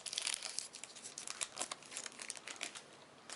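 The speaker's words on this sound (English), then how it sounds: "Let's look at our treasure pack and see what we got." Foil wrapping of a World of Warcraft trading card treasure pack from the Onyxia's Lair raid deck crinkles and tears open, a close, steady run of sharp crackling rustles.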